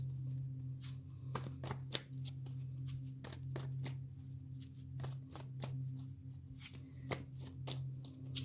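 Tarot cards, including Pentacles and Wands, handled and laid out on a table: a series of crisp card snaps and slaps at irregular intervals, close and fairly quiet over a steady low hum, with no talking.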